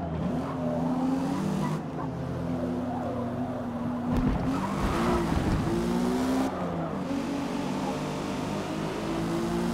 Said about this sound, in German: Einmal dahingestellt, ob der Auspuffgeböller halt realistisch ist oder nicht